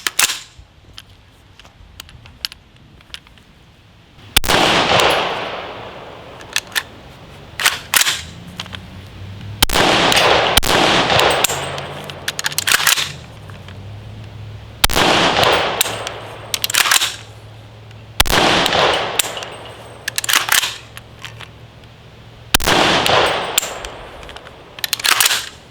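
Rifle shots fired outdoors through a Strike King Comp muzzle device: loud, sharp cracks come singly and in quick clusters, separated by short quiet gaps, with no speech.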